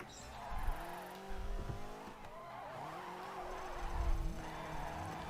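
Yellow Subaru rally car in DiRT 3 racing hard, engine revving with rising and falling pitch sweeps, tires scrabbling and skidding over loose ground, loud and close throughout.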